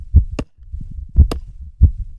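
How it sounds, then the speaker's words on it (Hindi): A cartoon story's heartbeat sound effect thumps three times, loud, close and deep, with a short double-beat pattern, standing alone without voices. "दिल तेज धड़कने लगा।"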